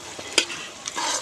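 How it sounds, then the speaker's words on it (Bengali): Fried potato pieces being stirred back into hot oil with onion and crushed garlic in a pan for a katla fish curry; a sharp scrape, then a spreading sizzle, close and alone. "এখন আমি আলু ভাজা আবার দিয়ে দিচ্ছি এর মধ্যে"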